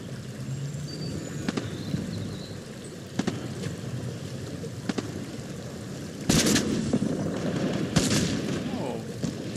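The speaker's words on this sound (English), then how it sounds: "Who the fuck is shooting me?" Fortnite gunfire cracks out in scattered shots and short bursts, some distant and some close, over steady game ambience, with a louder cluster of shots toward the end.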